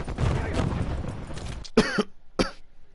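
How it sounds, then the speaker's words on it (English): A person coughs twice in quick succession, sharp close bursts after a stretch of muffled background noise during an online shooter game session. "Cough."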